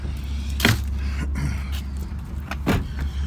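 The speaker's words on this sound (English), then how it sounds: "As I step to get in the car" A car door and jangling keys sound in a few sharp clunks and rattles over a steady low engine hum inside a vehicle as a person climbs in, with no talk.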